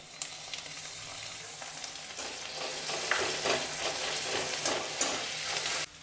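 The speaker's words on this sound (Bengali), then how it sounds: "বাকি যে আদা রসুনের পেস্টটা ছিল সেটা এবার এখানে আমি দিয়ে দিচ্ছি।" Ginger-garlic paste with green chilli paste and coriander leaves frying in a pan for green chilli chicken, giving a loud, continuous close sizzle with occasional stirring scrapes and no voices.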